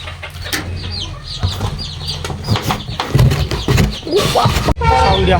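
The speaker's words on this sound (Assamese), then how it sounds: "এইখন মুৰ্গী ভিতৰত ভালেও আছে" Chickens cluck close by in an indoor coop on a rainy day while being fed rice. The busy clucking and chatter run steadily through the whole stretch, with a few louder squawks near the end.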